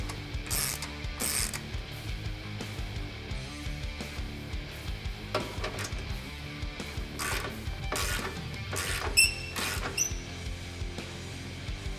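A ratchet wrench clicks in repeated bursts while a nut is snugged up during installation of a Rough Country 4-inch lift kit on a Jeep Wrangler TJ, with rapid metallic pawl ticks close by and no talk.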